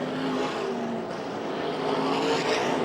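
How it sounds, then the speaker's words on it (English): A USAC sprint car engine with a failing motor roars steadily and loudly, with a slightly uneven, rough tone as the motor sounds strained; no talking. "Sounds like a motor going away"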